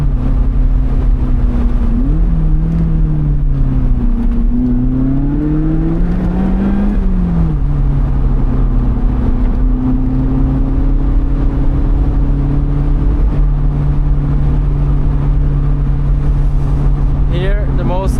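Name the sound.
Lotus Elise Cup 250 sports car accelerating at full throttle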